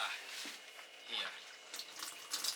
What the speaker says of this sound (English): Oh, some more water coming.